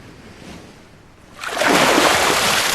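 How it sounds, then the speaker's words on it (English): A fish takes the bait in a fishing video game with a small splash: a quiet watery wash swells into a louder, sustained rushing burst of splashing spray. "Way too small of a splash."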